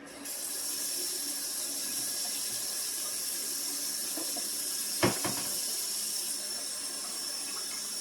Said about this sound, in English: We're going to get us a cup of water.